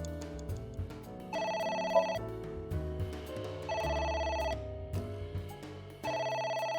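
A phone rings repeatedly inside the video game AI: The Somnium Files, a bright electronic trill sounding in regular bursts with short gaps, clear and moderately loud over a low game backdrop.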